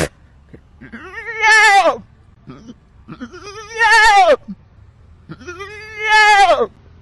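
A human voice imitates a goat, giving three long, wavering bleats separated by short pauses, with small breathy sounds between them.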